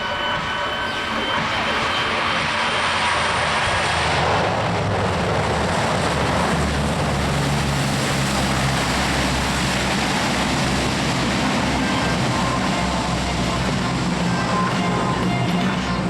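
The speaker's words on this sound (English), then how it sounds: "He's going to use reverse thrust from those engines and back up." Large military transport aircraft at the Australian International Air Show roaring with engines in reverse thrust after a full stop landing, a loud sustained rumble and whine that swells partway through, with a commentator talking over it.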